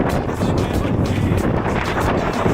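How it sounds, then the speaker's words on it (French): Strong wind roars and buffets the microphone in constant rumbling gusts, loud and close, shaking a bicycle, with no one speaking. "Il y a un vent de malade mental. Écoutez seulement le vent."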